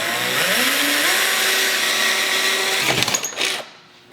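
A power drill with a 9/32 bit whines steadily at high speed, drilling holes to fit running boards on a Dodge Ram Mega Cab, its pitch rising as it spins up, then sputters and cuts off near the end.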